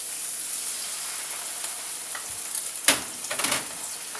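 Wine poured into a pan of sautéing onion and garlic sets off a steady bright sizzle, with a sharp burst of crackling and a few scraping stirs near the end.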